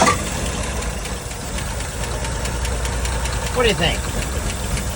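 1979 Ford service truck with a 306 engine running after starting, a rough loud mid-pitched knocking idle that continues throughout while a person speaks over it briefly.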